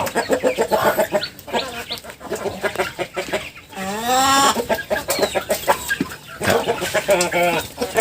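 Many chicks and native farm chickens cluck and chirp throughout, with a person talking over them at times; one long rising-falling call stands out midway.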